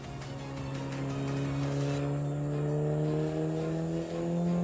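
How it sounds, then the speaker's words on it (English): A four-cylinder car engine revs steadily with a strong droning tone that rises gradually in pitch, played back from a video in a street racing setting, loud and continuous with no talk over it. "Sounds like a 4-cylinder."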